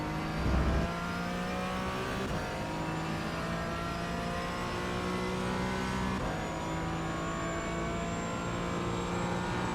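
A Porsche 718 Cayman GT4 engine in the iRacing simulator at Imola pulls hard in second gear, a steady, loud, rising mechanical drone with a whining overtone that holds on throughout without pause.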